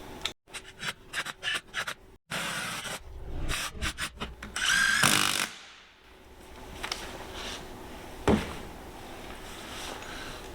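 Ratchet tightening bolts on a Land Rover gearbox, a series of quick clicking bursts and ratcheting strokes up close, broken by metallic clanks and handling noise in a workshop.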